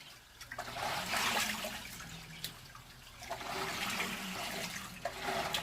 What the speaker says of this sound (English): There's this second rinse cycle.